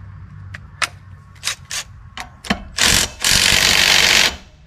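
A Milwaukee power tool rattles in short bursts close by while work is done on a trailer hub and bearings, then runs in two longer, louder stretches.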